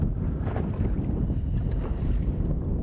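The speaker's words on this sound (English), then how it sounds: "Just a little wind this morning." Wind buffeting the microphone on a lake during walleye fishing on Kabetogama, a steady low rumbling roar with faint water and boat sounds and no talk.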